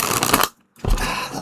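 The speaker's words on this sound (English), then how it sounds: "I kind of want to shuffle up again." Tarot cards are shuffled by hand in quick, dense riffling bursts, close and crisp, broken by a brief silent pause before the shuffling resumes.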